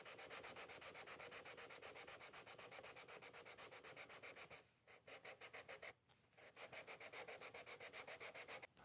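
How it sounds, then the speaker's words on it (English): A guitar fretboard is lightly sanded with 320-grit sandpaper on a radius block. The short one-inch strokes rasp in a steady, close rhythm, broken by two short pauses, with no talk. "So I'm just lightly sanding, ever so lightly."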